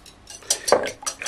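Two eggs are beaten in a bowl, giving quick, close clinks and scrapes of utensil against the bowl in a brisk, uneven rhythm with no talking.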